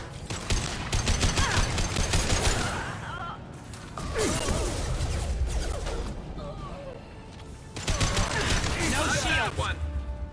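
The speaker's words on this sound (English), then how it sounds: "Firing an impact shot." Impact shot weapon fire in the Mass Effect video game: repeated loud bursts of gunfire and crackling impacts in three dense volleys, with game voices speaking in between.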